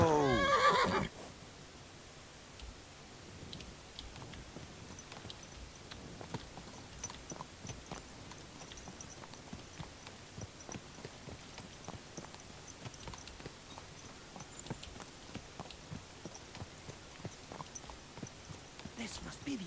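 A horse whinnies briefly at the start in the video game Kingdom Come: Deliverance 2, then quiet, irregular hoof clops and soft clicks continue at low volume for the rest.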